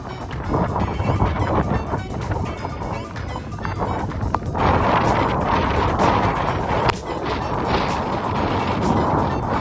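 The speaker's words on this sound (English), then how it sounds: "Very windy." Strong wind roars and buffets the microphone in a steady, loud rush with occasional gusts during a snowstorm, and nobody speaks.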